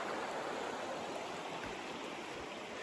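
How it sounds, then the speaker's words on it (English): A creek flows in a steady, soft rushing wash of water, continuous and fairly quiet with no voices. "And there goes the creek."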